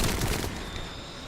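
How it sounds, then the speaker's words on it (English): Dense fireworks and explosion effects fill a round of The First Descendant on PC, a continuous crackling, booming wash that is strongest at the start and then eases into a steady hiss. "then it's fireworks plus the explosions covering the screen."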